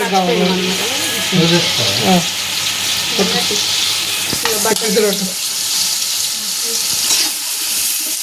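Onions fry in oil and butter for a chicken majboos biryani, making a steady, fairly loud sizzle and hiss with occasional pops, while a person talks over it near the start.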